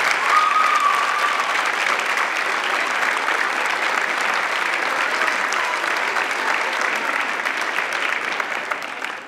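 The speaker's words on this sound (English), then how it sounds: "if we can give a round of applause" Sustained, full applause from the audience at an 8th grade chorus and 6th grade band school concert, dense and even for the whole stretch, easing slightly at the end.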